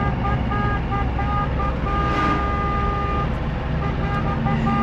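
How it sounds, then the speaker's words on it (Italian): A car horn honks in long, steady blasts over a constant idling engine and road noise, close by. "Toglietegli questo clacson."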